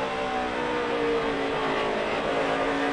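NASCAR Sprint Cup stock cars racing side by side at Bristol during a night race, a dense continuous engine roar from the pack, loud and steady with shifting pitch as cars run close together.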